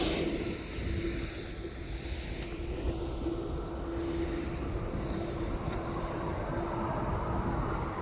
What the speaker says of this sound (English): We have got the arrival of BHX2.com wet lease aircraft coming in behind me.